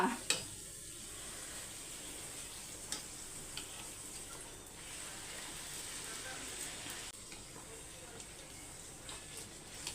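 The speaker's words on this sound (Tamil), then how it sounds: "எண்ணெய் நல்லா காஞ்சிருச்சு பூரியை போட்டுடலாம்" Puri frying in hot oil makes a faint, continuous sizzle with light scraping and stirring sounds and a few small knocks from the pan, while a voice talks quietly over it.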